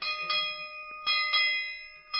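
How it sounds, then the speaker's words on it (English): A bell swung by hard yanks on its rope rings in strong, clear strokes, one after another, each leaving a long bright ring behind it, loud and near with no talk. "give that bell rope a couple of good yanks"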